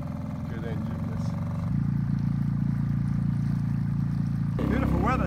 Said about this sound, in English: Good engine, that. Good engine, this.